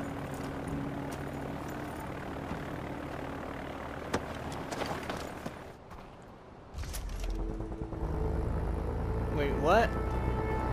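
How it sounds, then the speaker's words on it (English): An aircraft engine hums as a plane readies for takeoff in the video game Far Cry 4, droning under game sounds and voices, dipping briefly before swelling louder toward the end. "The one in the plane that's about to take off."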